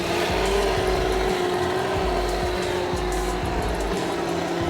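A Heng Long Russian T-90 RC tank with steel gears, plastic tracks and metal suspension arms drives through super tall grass, giving a steady close electric motor whine and gear drone with rustling, and no talk.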